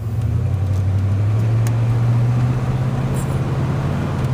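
A 1994 Ford F-150 XLT 4x4 pickup truck driving, heard from inside the cab as a steady low engine drone with road noise, constant and fairly loud, with no talking.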